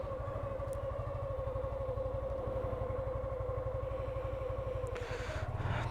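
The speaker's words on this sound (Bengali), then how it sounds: "বাইকটা মাত্র স্টার্ট করলাম, একটু কোল্ড স্টার্ট হোক" A Suzuki Gixxer FI disc-brake motorcycle idles steadily just after a cold start, with a low, even engine throb and a sustained mid-pitched drone running unbroken throughout at close range, plus a brief clatter near the end.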